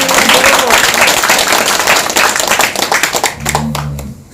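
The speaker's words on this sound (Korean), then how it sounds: "박수 한번 해주세요." An audience claps at a Freedom Republican Party campaign office opening in Dongjak, a loud close burst of hand clapping that runs continuously and then trails off near the end, with some crowd voices mixed in.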